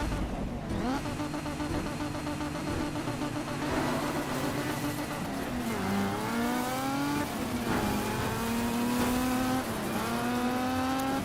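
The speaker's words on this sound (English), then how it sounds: "sound is very important to me, the sound of a car. And I love myself a good V8" A V8 racing car engine in the video game DiRT 2 revs and climbs through gears, with rising whines and shifts, loud and continuous throughout.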